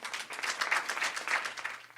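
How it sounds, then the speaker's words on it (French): Audience applause rings out at an Acadian Remembrance Day gathering, a steady, dense wash of many hands clapping, fairly close and continuous for the full two seconds with no voices over it. "mesdames et messieurs, applaudissons chaleureusement Madeleine Doiron"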